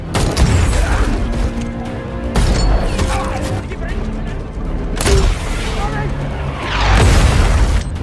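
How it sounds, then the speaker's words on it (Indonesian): A Reaper missile explodes on a car carrying two men holding an RPG in a Philippine jungle film scene, heard as several heavy booming blasts spread over a few seconds beneath a tonal score, with voices present. "mobil beserta 2 orang yang memegang RPG itu terkena misil Reaper"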